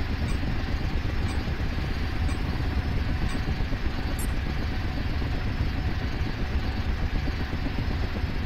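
A Black Hawk helicopter in Ghost Recon Advanced Warfighter 2 approaches, its engine and rotor making a dense, continuous roar that stays loud and steady throughout without any speech.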